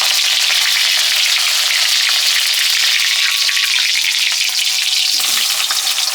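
Green chilies hit hot mustard oil seasoned with panch phoron, giving a loud, continuous bright sizzle and crackle with small pops, close up and with no talking.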